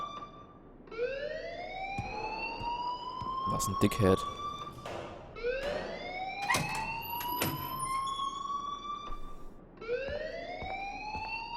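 An alarm in the video game Life is Strange wails in repeated rising siren sweeps, loud and continuous, while a voice speaks briefly over it.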